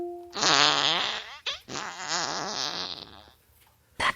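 An Alexa smart speaker plays a squeaky fart sound effect: a loud, wavering, high-pitched squeal that breaks briefly and resumes before cutting off, then a short burst at the end.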